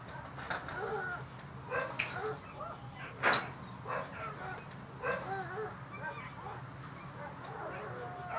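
Several dogs bark from some distance, scattered yips and barks over a steady low background hum, with someone talking at times.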